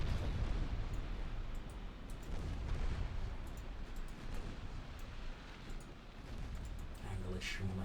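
Torpedo hits from a naval battle in Ultimate Admiral Dreadnoughts explode as deep rumbling booms and bursts, several impacts rolling together at moderate loudness under an intermittent talking voice.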